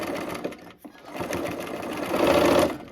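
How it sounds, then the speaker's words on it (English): A sewing machine runs in a steady close whir as it stitches diagonal quilt seams with the needle down, picking up speed near the end. "Sewing with my needle down."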